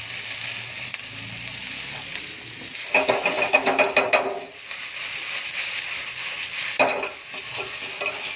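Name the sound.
sliced onions frying in hot oil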